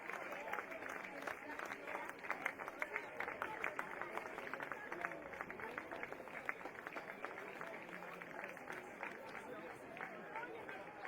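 Steady crowd applause and cheering along a street as girls' and boys' youth football teams parade through town during an international youth tournament, continuous and fairly even throughout with mixed chatter.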